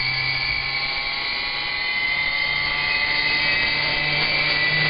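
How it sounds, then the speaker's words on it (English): A turbine whines steadily at speed, a loud continuous high-pitched tonal drone with a low hum beneath, unchanging and close throughout. "I think the turbine is just up to about the right speed."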